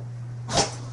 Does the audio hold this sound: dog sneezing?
yes